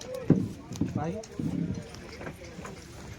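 Bull hooves clop in a loose, uneven rhythm nearby at a bullock cart race in Pune while people talk over them.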